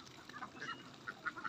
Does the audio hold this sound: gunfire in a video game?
no